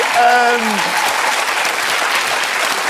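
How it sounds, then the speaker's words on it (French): A studio audience on a Belgian RTBF television show breaks into loud, dense applause; a voice briefly speaks over the start before the clapping carries on alone. "on les applaudit"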